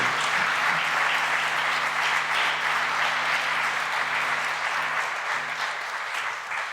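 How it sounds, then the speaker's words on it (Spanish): A church congregation applauds steadily and loudly for nearly seven seconds, a dense, even wash of many hands clapping close by, with a low hum underneath. "Dale un aplauso grande a Él"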